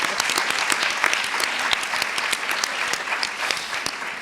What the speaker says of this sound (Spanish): Y eso merece un aplauso ahora mismo.